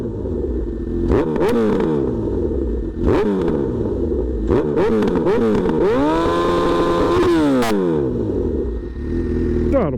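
A Honda CB1000R Hornet motorcycle engine revving loudly up close, with repeated throttle blips rising and falling and one longer sustained high rev near the end, over a steady idle.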